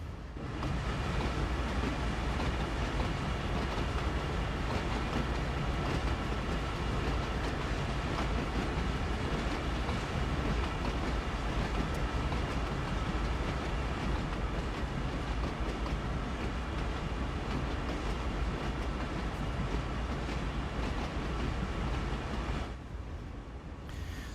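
Freight train running steadily in Train Sim World 5, a continuous low rumble with rail noise and faint clickety-clack throughout, loud and close, easing slightly near the end.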